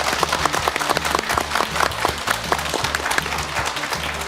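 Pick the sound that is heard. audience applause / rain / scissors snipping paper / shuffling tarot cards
audience applause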